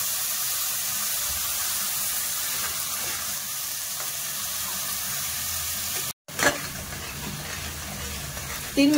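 Paste made from three medium onions fries in oil in a home kitchen for a Marathi veg korma, a continuous soft sizzle with a brief clatter near the end and no talking.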